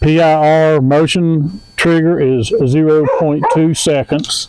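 A dog yips and whimpers indoors during a review of a solar Wi-Fi trail camera, its high, strained cries mixed with and partly masked by a man's steady, close talking.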